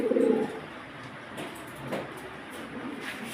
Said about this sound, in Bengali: এটা লাহোরি কবুতর, রেড লাহোরি।